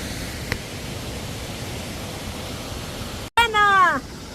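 Agnes Falls, a 59-metre waterfall in Australia, sends out an even, broad rushing wash from a distance, steady throughout. Near the end there is a brief dropout and a short wavering vocal sound.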